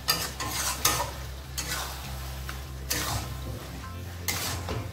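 Paneer and pointed gourd are stirred in a pan with a utensil, giving repeated scraping strokes over a low sizzle, each stroke a distinct close burst in a slow irregular rhythm.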